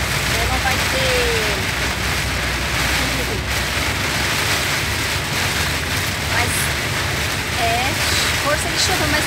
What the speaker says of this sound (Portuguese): Força de chuva, mas é bom,